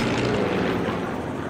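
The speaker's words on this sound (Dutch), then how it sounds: "Er vliegen ook helikopters en vliegtuigen, weet ik wat allemaal over." Aircraft roar overhead in the war video game Sniper Elite III. The engine drone is loud and steady, filling the moment without any talk.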